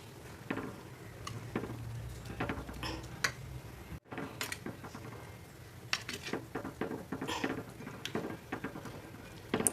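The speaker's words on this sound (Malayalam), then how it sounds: "നമുക്കിതൊന്ന് മിക്സ് ചെയ്ത് കൊടുക്കാം." A drumstick leaf curry is stirred in a pot, giving soft, irregular clinks and scrapes of a spoon against the metal, fairly faint and spread throughout.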